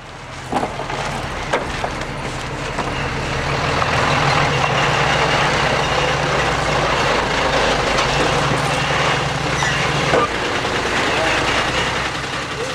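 A large truck arrives at a big chicken farm in Anseong, Gyeonggi Province, carrying forty thousand newly hatched chicks; a steady low engine rumble builds and holds close by, with faint beeps and brief clatter over it.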